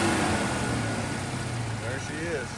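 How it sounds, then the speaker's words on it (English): A 1970 Ford Mustang Boss 429 in Calypso Coral revs continuously through a dense, steady engine roar, close and loud, with faint voice-like sounds in the mix. "We'll rev it up a couple times more."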